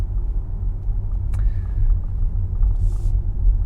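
Hyundai IONIQ 5 electric car driving, a steady low road and tire rumble heard from inside the cabin, with no engine note.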